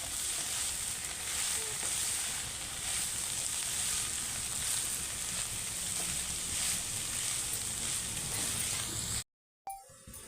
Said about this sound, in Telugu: పోపు అంతా వేగిందండి.